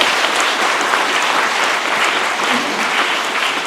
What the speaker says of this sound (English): the level of clapping is not matching with the madam's speech